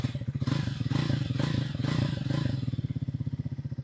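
A new Triumph Speed 400 motorcycle engine revs under a pre-delivery inspection, a loud, close, throbbing exhaust pulse rising in several quick blips before settling back to a steady idle.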